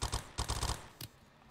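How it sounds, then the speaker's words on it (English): Video game gunfire aimed at the player during a penguin heist game, two rapid bursts of automatic shots followed by a single crack, close and punchy, no talking. "Oh, no, I'm being shot at."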